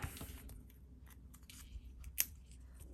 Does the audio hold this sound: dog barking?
no